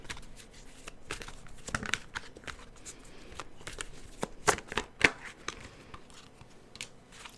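Tarot cards shuffled by hand close up, a continuous soft rustling and crinkling with several sharper snaps and flicks as the deck is worked, no talking.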